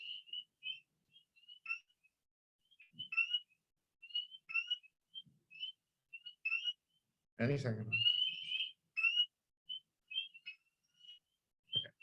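Early-spring frogs calling in Orange County: short, high, whistle-like chirps and trills repeat in quick bursts at a moderate distance, and a voice briefly speaks over them partway through.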